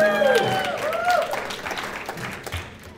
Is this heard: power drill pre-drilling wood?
no